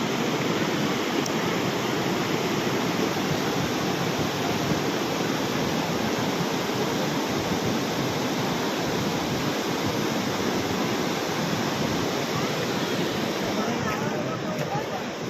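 A flooded river in Nepal rushes past after floods and landslides, a dense, unbroken roar of churning water, loud and close and constant throughout with no voices standing out.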